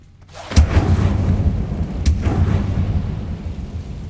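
An Incendio fire spell is cast in a Harry Potter video game: a heavy boom with a crackling whoosh, then a second, similar blast, both trailing into a low rumbling roar.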